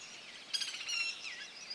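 A White-naped Woodpecker, Chrysocolaptes festivus, of open forest and scrub on the Indian subcontinent, gives a brief shrill trilling call, a quick rattle of high notes rising then fading over about a second, heard alone.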